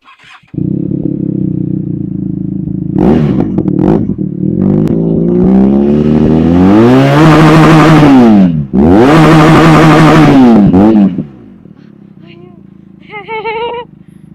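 A Benelli TRK 502 motorcycle fitted with an SC-Project exhaust is revved hard twice in long, rising and falling blasts, then drops back to a quiet idle before a short final rev.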